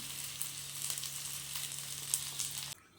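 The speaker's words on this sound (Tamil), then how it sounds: "இப்போ நம்ம ஒரு பிளேட்டில் மாற்றிக்கலாம் அப்படியே ஆறட்டும் வானிலை வச்சுக்கலாம் எண்ணெய் சேர்த்துக்கலாம்" Oil sizzles quietly in a pan while mutton curry is prepared, a steady, faint hiss with a low hum beneath it that cuts off abruptly near the end; no one speaks.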